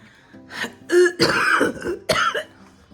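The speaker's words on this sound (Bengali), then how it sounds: "একটু কথা বলতে গেলেই কাশি উঠে কফ বেরোয়" A person ill with Covid clears their throat and coughs in several close, loud bursts separated by short pauses, with no speech.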